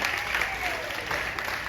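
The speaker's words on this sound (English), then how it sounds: "Y'all got to clap for that." An audience on the Carnival Vista cruise ship applauds, a dense, steady wash of clapping from a sizable crowd that holds at an even level throughout.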